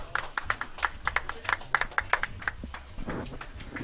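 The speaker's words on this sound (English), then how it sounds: "I started that clap" A small group claps in quick, fairly even succession at a Super Smash Bros. tournament grand finals between a Mewtwo and a Sheik player. The sharp, close claps run for about three seconds, then give way to a murmur of room noise.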